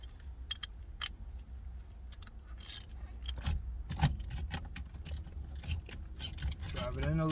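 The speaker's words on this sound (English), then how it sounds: "Ratchet." A ratchet turns a 13 mm bolt on a 2006 Toyota Corolla Type S during a clock spring and airbag job, making bursts of sharp metallic clicks and small rattles close by, broken by short pauses.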